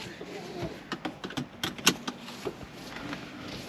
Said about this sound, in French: Nous allons nous attacher